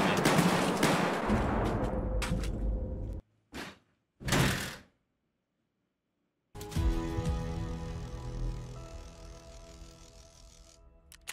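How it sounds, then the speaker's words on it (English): Gunfire in the video game Escape from Tarkov, heard as a few sharp mechanical bursts and clacks separated by silent gaps, then a longer stretch of quieter shots and clatter, fairly faint overall. "I'm gonna try to shoot this dude in his legs real quick."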